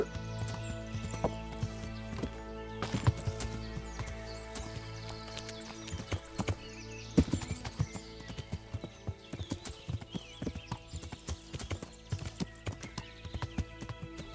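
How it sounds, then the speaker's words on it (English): Rhythmic hoofbeats of a horse galloping across ground in Kingdom Come: Deliverance, steady and close, with an occasional whinny and game music layered underneath. "I can actually go faster with the horse"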